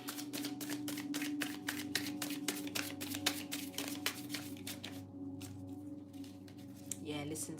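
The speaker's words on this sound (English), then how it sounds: "So I can shuffle." Rapid, rhythmic riffling of a deck of cards being shuffled repeatedly, crisp and close, with a short pause near the end before another burst.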